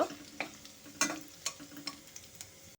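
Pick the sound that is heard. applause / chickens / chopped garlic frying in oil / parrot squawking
chopped garlic frying in oil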